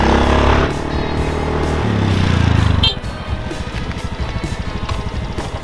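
A motorcycle engine, running loud and close with a rough rumble, then settling into a choppy, rapidly pulsing idle after a sharp transition midway.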